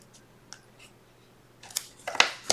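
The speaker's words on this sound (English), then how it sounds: "I'd rather use scissors to make it" Paper snipped with scissors while trimming a bullet journal spread: a few quiet, crisp cuts close by near the end, after a mostly hushed stretch, with no talking.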